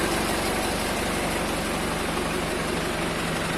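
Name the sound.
Tümosan 8195 tractor engine idling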